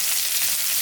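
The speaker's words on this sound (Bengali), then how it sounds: "পেঁয়াজটা আমি হালকা ভাজে নিলাম।" Onions fry in hot oil with a dense, continuous, close-up sizzle, bright and steady over a brief moment with no voices.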